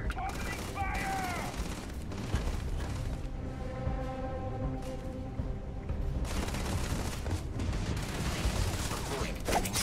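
Gunfire in the Starfield video game crackles in rapid bursts and volleys amid game sound, mixed with spoken voices and dialogue.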